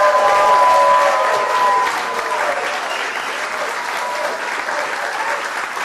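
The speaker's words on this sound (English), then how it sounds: "Susie deserves a great round of applause" A crowd applauds at a GOP dinner gathering at Mar-a-Lago, a loud, dense roar of clapping that begins at full strength and eases slightly while continuing, with faint voices and a sustained tone mixed in.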